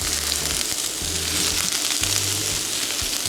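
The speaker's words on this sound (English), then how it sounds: "While your saute is cooking, what you wanna do is just move all of your vegetables around so that every surface has an opportunity to touch the pan." Garden vegetables sauté in a hot pan and are stirred. A steady, loud sizzle runs throughout, with short bursts of scraping and stirring. Nobody speaks.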